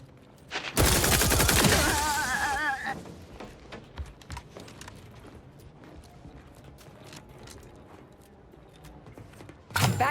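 Gunfire in the video game Outer Worlds 2: a loud, dense burst of rapid shots for about two seconds, then scattered fainter shots and combat noise, with another loud burst at the very end.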